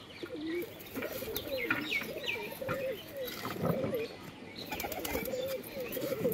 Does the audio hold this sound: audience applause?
no